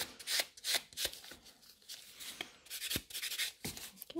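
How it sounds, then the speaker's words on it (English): A buffer rubbed over a gel nail extension on a short nail in quick, close scratchy strokes, several bursts with brief pauses between them. "we just take a buffer and we smooth this out"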